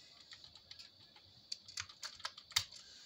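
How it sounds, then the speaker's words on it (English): Someone types a password on a computer keyboard in a burst of quiet, close key clicks, sparse at first and then quicker and sharper toward the end. "you're going to put in your password"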